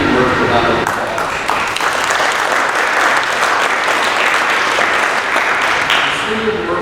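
Chamber of commerce luncheon audience applauding the city of Murphy, a dense, loud burst of clapping that swells and holds steady for several seconds, with faint voices mixed in at the start.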